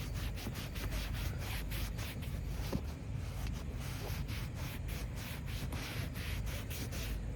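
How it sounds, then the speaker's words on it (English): A cloth wipes down a ventilated car seat in a Mahindra BE6 using 3M cleaner, giving a steady, close, scratchy rubbing with repeated short strokes and no voices. "and then take this and wipe off everything"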